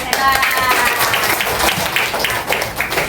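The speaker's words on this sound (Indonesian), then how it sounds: "Tepuk tangan dulu" Children in a classroom clap their hands together in a dense, fairly loud burst of overlapping claps, with faint voices mixed in.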